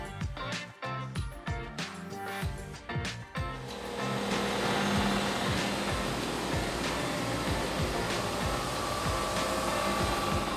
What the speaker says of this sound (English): With the head in the surfacer,